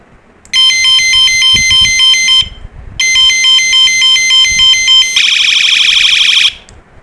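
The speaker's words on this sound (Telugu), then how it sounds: "దీంట్లో మొత్తం 4 రకాల హార్న్స్ ఉంటాయి" An electronic horn gadget for a bicycle gives two loud bursts of rapid beeping, then switches to a shriller, warbling siren tone. The sound is close and steady, with no talking.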